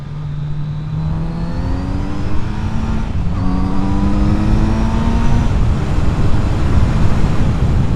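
A Kawasaki Z900RS motorcycle with a decatted exhaust climbs in pitch through a couple of gear changes under heavy, rushing wind noise, the exhaust note fairly faint against the buffeting.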